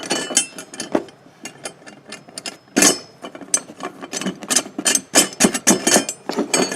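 Nuts being tightened on an Inverto satellite dish mount, with irregular metallic clicks and ratcheting taps close by, some louder than others.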